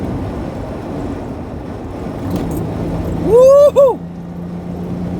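1988 Pontiac Fiero GT after a tune-up, downshifted and pulling hard: a low engine rumble under a sharp rising whine, with a man whooping excitedly during the acceleration.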